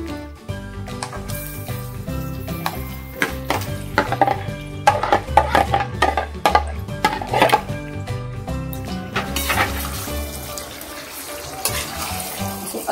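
Chicken pieces dropped into hot oil with onions fried until translucent, for a homemade chicken rezala: a steady, loud sizzle and frying hiss with stirring and pan clatter, no talking.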